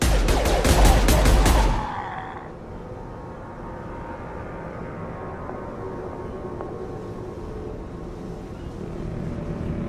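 A short, loud volley of rapid gunfire from the video game Mass Effect 2 crackles for under two seconds, then gives way to a low, steady ambient hum.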